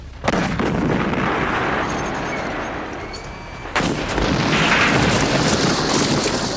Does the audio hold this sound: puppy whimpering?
no